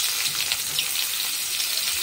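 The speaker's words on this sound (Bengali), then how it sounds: "এবার পেঁয়াজ ছেড়ে দেবো।" Chopped onions dropped into hot oil in a kadai that already holds a five-spice tempering, giving a steady, close sizzle and crackle with no speech.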